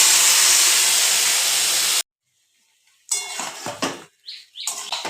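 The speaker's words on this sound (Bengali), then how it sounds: "এবারে আমি এই মাখানো মাংসটা দিয়ে দেব।" Marinated mutton goes into a hot cooking pot with a loud hiss of frying, then after a short silence comes sizzling and stirring with clinks of a spoon against the pot, close by and without talk.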